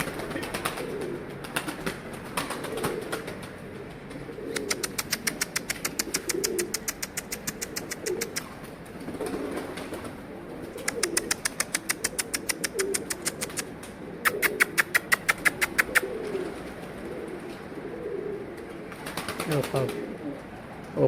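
Pigeons coo in a low, steady murmur while bursts of rapid wing flapping come and go, with voices talking nearby.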